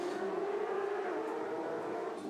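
Supersport middleweight motorcycles race on the track at Chuckwalla Valley Raceway, their engines merging into one sustained whining drone that climbs slightly in pitch at moderate distance.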